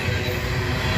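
Freight train rolling along Norfolk Southern track out of Pennsylvania, a steady broadband rumble of rail cars that holds close and loud through the whole short stretch, with no talk over it.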